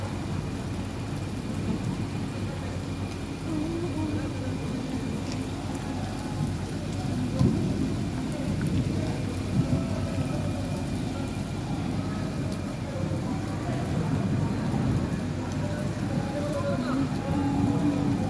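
Heavy rain pouring steadily at night during flooding in Dubai, a dense continuous hiss with occasional low rumbles, with people talking faintly underneath.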